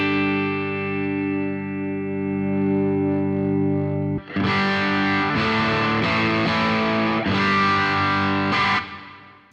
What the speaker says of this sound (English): So there we've got quite a nice sort of overdriven,